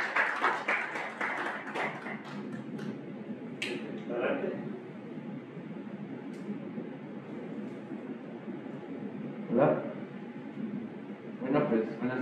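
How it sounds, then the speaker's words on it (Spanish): Applause from an audience at an agroecology book presentation starts in a burst and quickly thins into scattered claps. Soft room noise with occasional stray claps continues afterward. "Un aplauso de ustedes."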